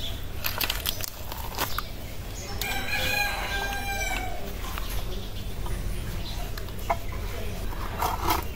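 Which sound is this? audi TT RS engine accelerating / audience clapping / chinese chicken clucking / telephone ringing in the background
chinese chicken clucking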